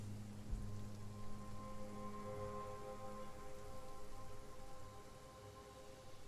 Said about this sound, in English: Nice rain effect.